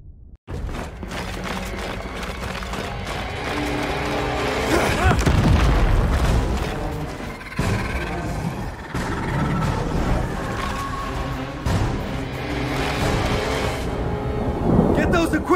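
Heavy bombardment explosions in the video game Gears Tactics, a long run of deep rolling booms and rumbling blasts, loud and dense, with brief voice over part of it.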